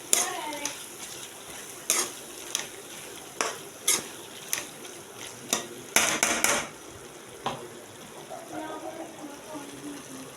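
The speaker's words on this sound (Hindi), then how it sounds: "अब इसमें मैंने डाली है क्रीम। थोड़ा सा इसे भून लेते हैं।" Shahi mutton curry with cream being fried and stirred in a pan, with a steady sizzle broken by repeated sharp scrapes and clinks of a spoon against the pot at close range.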